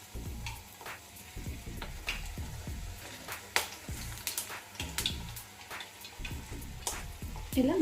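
Rice puri (chegodilu) dough fries in hot oil with a steady bubbling sizzle, broken by a few soft knocks and stirring sounds and some brief quiet talk in the background.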